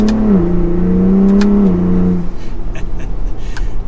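The engine of a 2023 Ford Bronco Raptor drones loudly and close up as its turbos build boost, its pitch climbing and holding before it drops off and settles into a rougher rumble.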